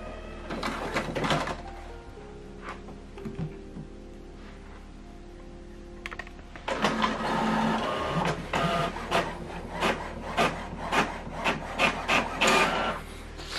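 An HP Officejet inkjet printer works through a page: a short whir, quiet pauses, then rhythmic mechanical shuttling and feeding clicks that repeat steadily.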